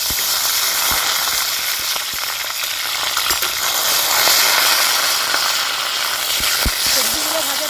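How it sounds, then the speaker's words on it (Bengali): Flat beans and eggs fry in a pan with no oil, giving a bright, constant sizzle with scattered clinks and scrapes from stirring, up close, with some talking now and then. "সবজিগুলো ভাজার জন্য কিন্তু আমি এখানে তেল দিচ্ছি না"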